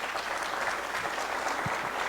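Audience applause at a political gathering, a steady wash of many clapping hands sustained throughout, fairly loud and unbroken, with no voices standing out.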